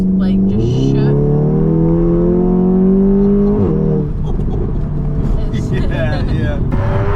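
A VW Golf GTI TCR Stage 2, tuned to around 400 bhp, revs up to roughly 3,000 RPM and holds there with a steady engine drone that rises slightly, then shifts. Voices are heard alongside it.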